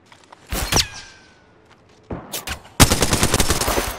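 Automatic weapon fire in the Apex Legends video game, two short bursts followed by a sustained loud volley of rapid shots after a brief lull, close and harsh.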